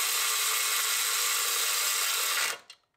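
Power tool tightening 10 mm bolts on a charge air cooler of a 3.0 Duramax in a 2024 ZR2, a loud continuous high whir held steady for over two seconds, then cut off abruptly with a brief tail.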